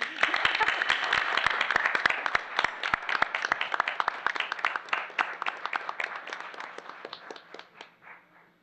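Applause at an IPS school board meeting: a burst of many hands clapping that ripples steadily for several seconds, then thins out and fades to a few scattered claps.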